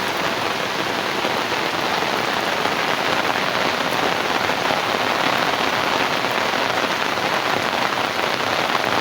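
Steady, loud downpour with a thick wash of raindrops drumming on surfaces, unbroken from start to finish.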